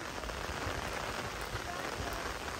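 Rain falls steadily at a pool in Nagarhole forest, a dense, even hiss of drops striking water and surfaces nearby, heard alone without talking.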